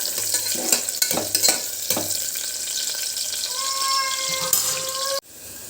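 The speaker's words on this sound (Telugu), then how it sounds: "ఆనియన్స్ కొంచెం రెడ్గా ఫ్రై అయ్యే వరకు ఫ్రై చేసుకుందాం" Two medium-sized onions frying in hot oil for a hearty bean biryani, with a steady close sizzle and a few stirring scrapes, then an abrupt stop near the end.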